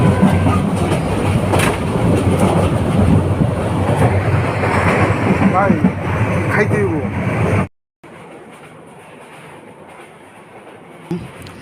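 A passenger train on the Dhaka to Cox's Bazar line rumbles steadily on its rails with a dense, loud roar, heard from inside a carriage. A vendor speaks briefly, and the sound drops away sharply before resuming more quietly.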